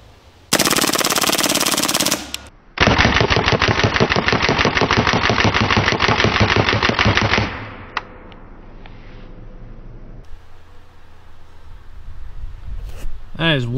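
Hatsan Blitz .30 caliber air rifle firing full-auto: a short loud burst, a brief pause, then a long sustained rapid-fire burst of about five seconds, followed by quieter mechanical handling noises, close and loud.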